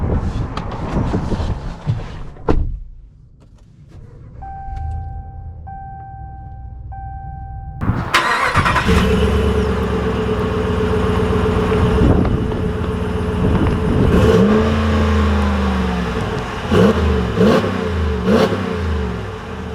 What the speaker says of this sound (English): let's take this Hydro Blue Rebel out and see if it drives any different with the unique color